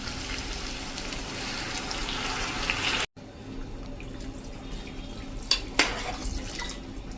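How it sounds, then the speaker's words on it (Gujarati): A glass of about 200 ml of water is poured into an onion and potato curry in a cooking pot, giving a steady splashing pour that breaks off briefly midway, resumes more quietly, and ends with a few drips and clinks. "અત્યારે હું જો 200 ml નો 1 ગ્લાસ જેટલું પાણી નાખું છું."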